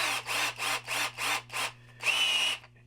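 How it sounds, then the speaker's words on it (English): A small drill bit bores into a mounted wood duck, heard as five short, evenly spaced whirring bursts followed by one longer run of the drill, close and clear, with no talk. "I'll drill a hole right in here with a small drill bit"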